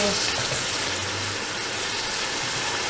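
Chopped tomatoes drop into a pan of frying onions for a curry, giving a steady broadband sizzle and crackle that fills the kitchen at moderate volume without a break.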